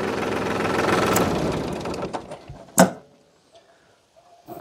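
A vehicle engine runs with a busy mechanical clatter, then is switched off near the end, the sound dropping away to near silence with a few faint ticks and clicks after.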